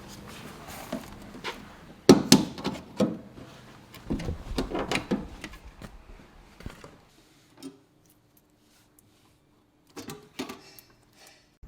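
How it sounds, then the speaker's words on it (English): A flathead screwdriver pries a seat panel off a Nissan LEAF with a burst of sharp clicks, scrapes and plastic snaps. The noise tapers into a few faint knocks, with no talking. "there's a panel that you just need a flathead screwdriver to get off."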